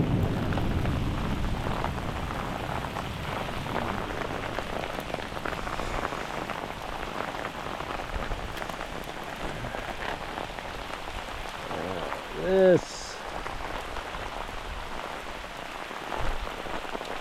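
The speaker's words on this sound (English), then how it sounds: "the rain lightened up a little bit, but it looks like there's another front right behind it." Heavy rain pours down during a thunderstorm with hail on an overnight fly fishing trip, a steady dense hiss that lasts throughout, with one short sharp sound partway through.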